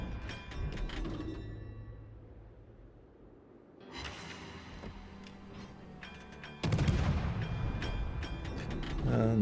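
Naval guns of the Khabarovsk destroyer firing in World of Warships, heavy booming salvos with rumbling tails, a softer stretch in the middle, then a louder sustained barrage near the end.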